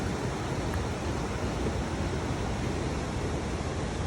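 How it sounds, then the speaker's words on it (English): A creek in Ketchikan, Alaska flows with a steady, broadband rushing wash, constant and even with no talk over it. "And that's the creek that you hear in the background."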